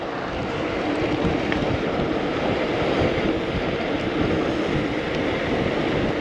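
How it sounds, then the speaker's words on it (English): Steady, loud wind buffeting outdoors on a downhill road toward Port Erin, a constant rushing roar with low blustery rumble throughout and no talking. "Bit windy out here."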